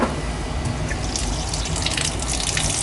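Water runs from a farmhouse tap fed by a failing well pump, a steady close hiss and splatter of flow continuing without pause.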